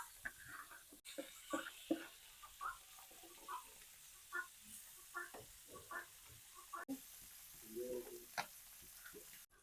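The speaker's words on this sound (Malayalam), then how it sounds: "അപ്പം ചട്ടി എണ്ണ ചൂടായി വറുത്തെടുക്കാം" Fish frying in hot oil gives off soft, scattered sizzles and crackling pops, quiet and close, with occasional clinks in between.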